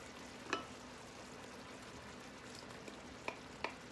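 Shrimp frying in a hot pan for shrimp and sausage over cheesy grits, a soft, quiet sizzle with a few light clinks and stirring taps, heard without speech.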